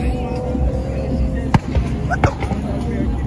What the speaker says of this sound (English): That sound like gunshots, bro.